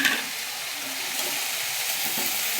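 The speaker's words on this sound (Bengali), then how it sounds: "থোড়, কুমড়ো, আলু সব ভালো করেই কষানো হয়েছে" Banana stem, pumpkin and potato sauté in a pan with a steady soft sizzle and hiss, faint and continuous with light stirring sounds, no voices.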